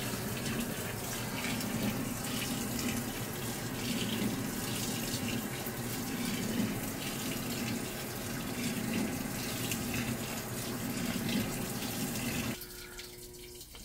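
A new-tech washing machine fills its drum with water, a steady close rushing flow running continuously before cutting off abruptly near the end, leaving a quieter hum.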